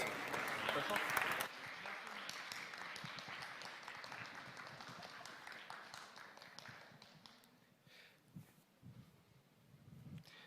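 At a developer conference's lightning talks session, an audience breaks into a loud burst of clapping and cheering for a speaker, then the applause thins and fades while a voice talks over it.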